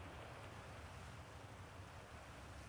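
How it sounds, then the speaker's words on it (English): Water flows inside a cave in the video game Outer Wilds, a soft, steady rushing wash that is faint and distant, with no voices. "I hear water."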